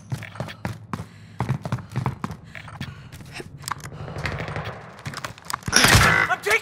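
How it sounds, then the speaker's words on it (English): Gunfire in a multiplayer shooter video game: sharp shots crack out in quick irregular bursts, then a denser, louder volley lands near the end. "I'm taking fire!"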